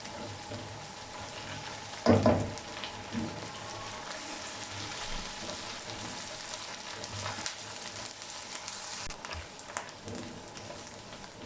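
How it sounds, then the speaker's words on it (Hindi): Ginger garlic paste fries with green onions in a pan, giving a steady, close sizzle throughout with occasional stirring clinks and louder spatters, and no voices. "अब इसमें अदरक लहसुन का पेस्ट डाल देते हैं और इसे 1 मिनट के लिए भून लेंगे।"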